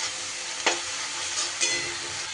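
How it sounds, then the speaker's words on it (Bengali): Ground spices such as coriander and cumin fry in a pan, a bright steady sizzle broken by two louder scraping stirs, heard close with no one talking. "সুন্দর করে সব মশলা খুব ভালো করে কষিয়ে নিতে হবে।"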